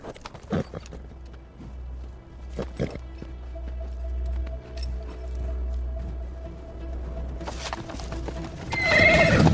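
A horse whinnies loudly and its hooves clip-clop nearby, with sharp hoof strikes early on, a steady low rumble beneath, and another whinny rising near the end.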